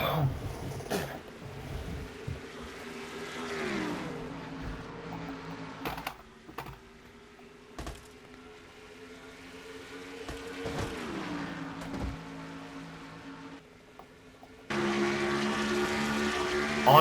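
Race car engines roar in a sim racing game during a stock car race at Watkins Glen, a steady drone with rising and falling pitch as cars shift and pass, continuous throughout and louder near the end.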